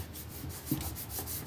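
Short, soft rubbing strokes as glued paper is burnished down onto a mosaic collage, a quiet dry scuffing with one slightly firmer pass midway.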